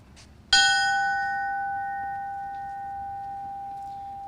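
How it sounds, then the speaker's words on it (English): A memorial bell rings once at a fallen firefighter ceremony in Edmonton, Alberta, a single clear metallic strike that rings out and decays slowly over several seconds in a quiet setting. "Ringing the bell and accepting the memorial flag will be his son, Robert Neal."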